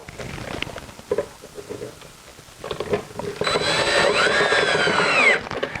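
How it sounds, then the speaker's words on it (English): A power screwdriver drives a screw through an LED light bar into the soft wood of a Donkey Kong arcade cabinet. A burst of loud, rising motor whine follows a few softer knocks and handling sounds. "So I'm going to screw that into the cabinet."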